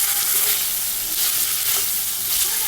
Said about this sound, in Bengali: আমি 5 মিনিটের মতো এগুলো একটু নেড়ে ছেড়ে ভালো করে ভেজে নেব